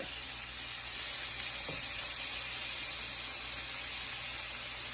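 Chicken sizzles steadily in a hot pan, a bright, even crackling hiss that carries on without pause up close.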